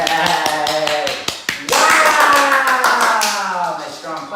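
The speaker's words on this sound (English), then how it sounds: "Nice strong clap." A few sharp hand claps ring out close by during dog training with a Malinois, mixed with a whining dog and a person talking and cheering over them.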